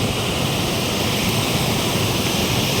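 Water pouring through the opened gates of Dantiwada dam, a loud, continuous broadband roar that stays steady throughout without any voices.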